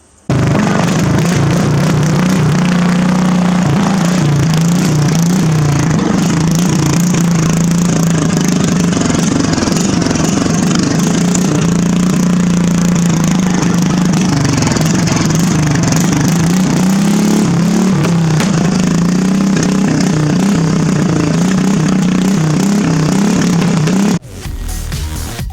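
A vehicle fitted with paddle tires runs on a test drive in a driveway, its engine a loud, steady, close drone for over twenty seconds before cutting off abruptly.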